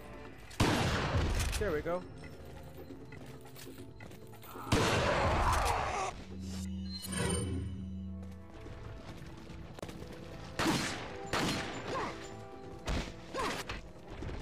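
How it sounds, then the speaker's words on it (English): Gunfire in Resident Evil 4 comes in several dense, loud bursts of shots and crashing impacts, with game music and a voice talking between and over them. "Stop shooting!"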